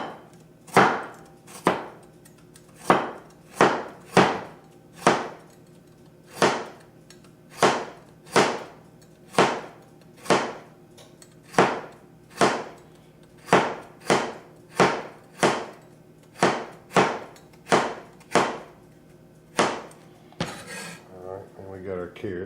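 A kitchen knife slices carrots into thin pinwheel rounds on a cutting board, about twenty steady, evenly spaced thuds close up, ending with a softer scraping clatter and no talking.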